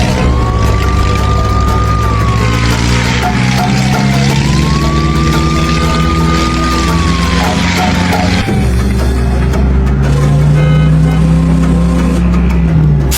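Cartoon car driving off, a loud continuous engine drone with a rising and falling siren-like whine layered over it and a shift in engine pitch partway through.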